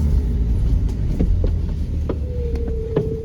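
A Chevrolet S10 pickup truck pulls away with a steady, loud engine rumble and low hum, a few faint clicks and a rising tonal whine near the end, with no talking.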